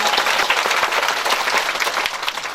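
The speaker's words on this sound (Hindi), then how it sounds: "उनके लिए भी एक बार जोरदार तालियां।" A crowd of listeners at a Bhagavat Katha bursts into sustained, hearty clapping, many hands together in a loud, even roar that carries on without pause.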